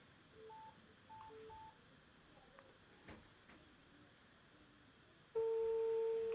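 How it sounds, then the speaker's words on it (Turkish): Telephone dialing for a call, with a few short key tones spread across the clip, then a steady ringing tone that starts near the end and carries on loudly. "Birkaç tane akrabamı arayacağım."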